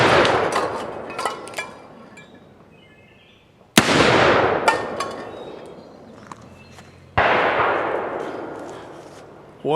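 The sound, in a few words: gunshots from the Alchemista II shooting tin cans off a fence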